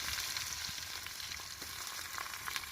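Onion goes into hot oil already holding cumin and garlic on a wood-fired stove in a farm field, giving a faint, steady, even sizzle with a few soft pops.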